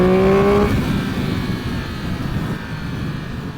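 A 2023 Triumph Speed Triple 1200 RS on its stock exhaust, engine note falling from a loud rev into a steady, droning run at riding speed, close and continuous with strong rumbling low end and no talk.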